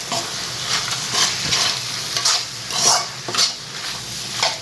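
Indian street-style pasta is stirred while frying in a pan, with repeated scraping strokes and a steady sizzle in a close, even rhythm. No voices are heard.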